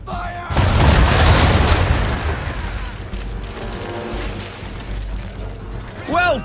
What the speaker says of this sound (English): Bring her round broadside, and when all guns are on target, call fire.